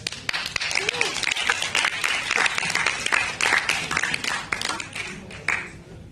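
An audience gives a presenting group a dense round of applause, many hands clapping close and steady for several seconds before tapering off.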